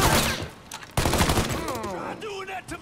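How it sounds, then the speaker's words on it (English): Gunfire in the video game Mafia 3, a rapid volley of shots in two bursts with dense crackling, mixed with game voices and someone talking. "Where's the guy shooting from?"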